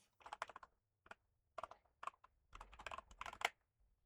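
Quiet, close-up computer keyboard typing comes in irregular bursts of clicky keystrokes as a short Python print command is entered, with brief pauses between words.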